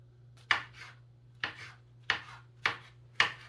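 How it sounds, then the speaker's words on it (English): A knife slices hen of the woods mushrooms into thin strips on a cutting board: five crisp, separate cuts spaced about a second apart, close and fairly quiet, with a low hum underneath and no talk. "Just cutting into thin strips."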